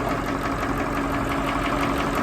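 A restored, formerly seized Massey Ferguson 1800 tractor engine idles steadily after work in the field, a continuous low rumble with a faint knocking pulse, close and even throughout, no voices.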